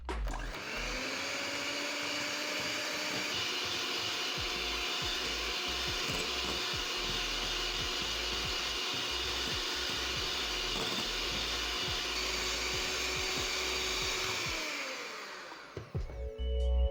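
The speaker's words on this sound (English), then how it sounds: "So I'm going to beat my margarine until pale white." Electric mixer beating margarine for buttercream frosting, a steady loud motor whine running continuously for about fifteen seconds before winding down at the end, with no talking.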